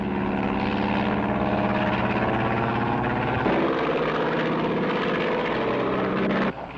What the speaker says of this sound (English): You know anybody else who flies that kind of plane?